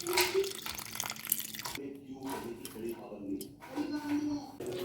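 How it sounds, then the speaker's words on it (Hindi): Water is poured over toor dal in a home kitchen to soak, giving splashy, gurgling bursts with brief pauses, while a voice talks over it. "तो अब इसमें पानी डालकर एक आधे घंटे के लिए इसे भिगो के रखते हैं।"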